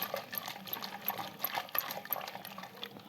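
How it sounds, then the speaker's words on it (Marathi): Water is poured from a small pot into a simmering drumstick and bean curry, a soft continuous splashing trickle close by with faint bubbling, and no talking. "आता यात पाणी टाकून घेतोय आपण"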